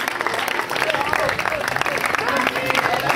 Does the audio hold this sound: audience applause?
yes